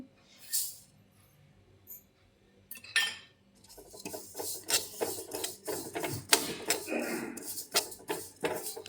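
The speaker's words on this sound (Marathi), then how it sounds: "त्यात आपण तीळ भाजून घेऊ" Dry scraping and rattling of sesame seeds being roasted in a pan, quiet at first and then busier, with clinks of a metal spoon.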